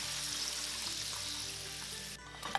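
Steady crackling sizzle of Taiwanese popcorn chicken double-frying in hot oil, close and continuous, with a few light clinks near the end.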